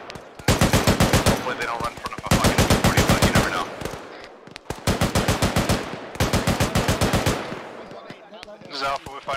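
Automatic gunfire from the video game ArmA 3 rattles out in loud, rapid bursts, four long volleys separated by short pauses, with a voice briefly calling out between them.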